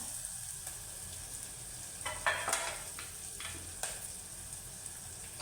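Onion and lablab beans sauté in oil inside a pressure cooker, giving a soft, close sizzle with a few sharper crackles and stirring scrapes, alone without talk.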